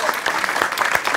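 Studio audience clapping on a French cooking show after a langoustine dish is tasted, a dense, steady patter of many hands sustained throughout at moderate loudness.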